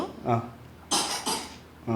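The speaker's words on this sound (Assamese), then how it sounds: "মোৰ বেটা কাহ হৈ আছে" A child coughs several times in quick, close bursts, short harsh coughs separated by brief pauses.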